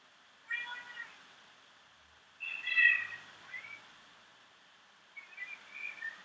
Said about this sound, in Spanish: Aquí con el canto de todos los gatos.